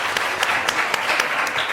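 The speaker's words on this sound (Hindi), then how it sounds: "हमारे लिए भी तो सही तालियां बजाओ" A TV studio audience applauds during a Ramzan special broadcast, a brief stretch of steady, fairly loud crowd clapping with a few sharper individual claps standing out.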